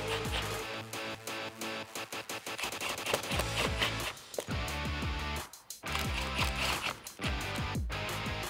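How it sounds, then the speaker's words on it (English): An impact gun tightens screws on a Ford Mustang chin spoiler, firing loud rapid rattling bursts in quick succession with brief pauses between them. "Grab your Phillips head screwdriver or your impact gun and tighten these guys down."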